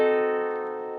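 A fully diminished seventh chord sounds as one sustained, evenly ringing chord that decays slowly, close and clear, with no talking over it.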